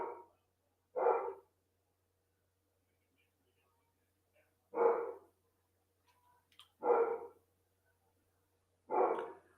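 A dog barks indoors in a series of five separate, fairly loud barks spaced irregularly across the stretch, with near silence between them and no other sounds.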